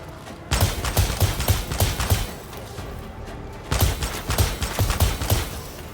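Gunfire in the Warhammer 40,000 video game: two loud bursts of rapid, thudding shots, separated by a short lull of quieter background noise.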